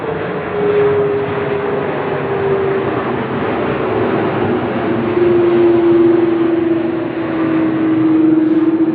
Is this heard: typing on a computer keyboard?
no